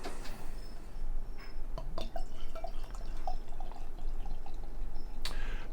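Dark bourbon-barrel-aged stout being poured into a glass, with a soft, close, continuous trickle and drip, quiet and without talk.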